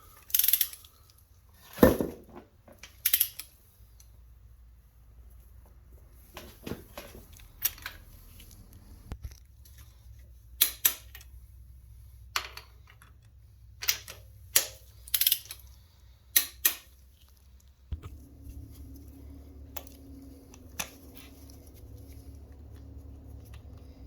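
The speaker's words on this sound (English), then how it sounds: "I'm going to torque these both to 35 foot-pounds." A torque wrench tightens the starter bolts to 35 foot-pounds during engine and transmission work on a 2013-2018 Nissan Altima, giving sharp, separate ratcheting clicks in irregular bursts, close and clear over a quiet background.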